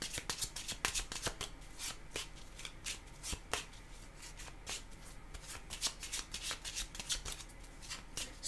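A deck of tarot cards is shuffled close up, a steady run of quick riffling flutters and soft papery slaps repeating throughout, fairly quiet with no talk.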